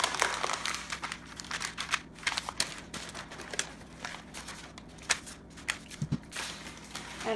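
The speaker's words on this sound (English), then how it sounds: "Okay, we'll take the paper off." Paper peeled and crinkled off a block of homemade room-temperature-method soap, a close series of irregular crackling and tearing rustles at moderate volume, with no talk.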